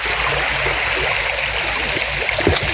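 A small jungle river stream flows and babbles in a steady, close wash of water, with faint splashes throughout and no talking.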